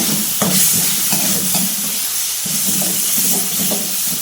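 Chopped onion frying in a pan in a home kitchen, a steady close sizzle with soft stirring scrapes and small clicks throughout, no voices over it.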